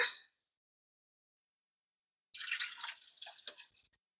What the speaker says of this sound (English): So I'm going to pour this water